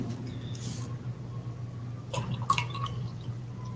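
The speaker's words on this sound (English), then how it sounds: "Let me pour a little more coffee." Coffee poured into a cup: a brief, faint trickle and a few small splashes and drips arrive in a short cluster past the midpoint, set against a quiet room hum.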